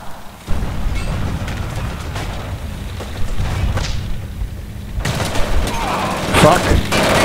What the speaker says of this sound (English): I'm getting shot from machine guns at the waterline somewhere around this area.